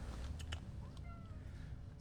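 A cat gives a couple of short, faint meows in a workshop, set against steady low background noise.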